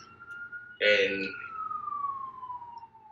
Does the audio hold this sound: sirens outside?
yes